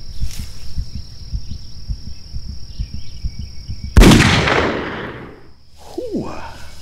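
A single sharp rifle shot cracks out during a hunt in the PlayStation 2 game Cabela's Outdoor Adventures, booming and echoing away over a steady insect chirr and a faint rhythmic ambient pulse.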